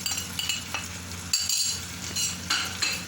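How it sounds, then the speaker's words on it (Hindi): Chicken karahi frying in a pan as salt, turmeric, chili, cumin, dried coriander and chili flakes go in: steady sizzling with a few close scrapes and clinks of a utensil, no talking. "ये सब हम इसमें ऐड कर देंगे।"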